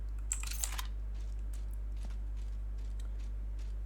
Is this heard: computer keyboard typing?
yes